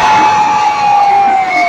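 A college live rap concert crowd roars and cheers in a sustained dense wash of shouting, with a steady high tone ringing over the noise.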